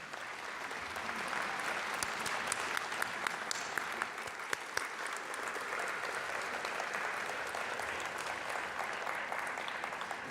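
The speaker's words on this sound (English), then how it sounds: "I'm going to ask you to turn and face your family and friends and clap and show them your appreciation for" Graduates at a Memorial University of Newfoundland and Labrador convocation ceremony clap for their families, a dense, steady wash of applause from a large crowd filling the whole stretch without a break.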